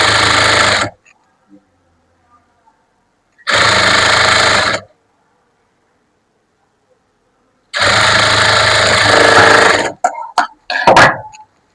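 Sewing machine stitching the hem of chudidar pants, running in three loud bursts of steady whirring, each about a second or longer, with quiet gaps between and a few short clicks and thumps at the end.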